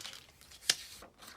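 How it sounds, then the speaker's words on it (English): Crinkly plastic bag handled close up during a scrapbooking session, soft rustling with one sharp crackle in the middle and a few fainter crinkles after. "Sorry, this is in a really crinkly plastic bag,"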